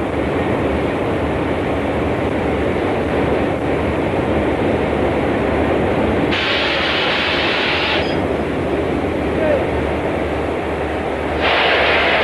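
A steady, loud rumbling roar of a train passing close by fills the whole stretch, with brief higher-pitched hissing swells on top.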